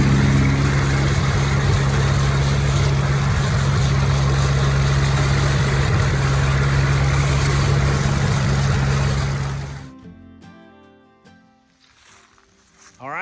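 A Ford 640 tractor engine runs loud and steady while driving a 50-year-old bush hog mower, a continuous low rumble for about ten seconds before it cuts out and drops away to quiet.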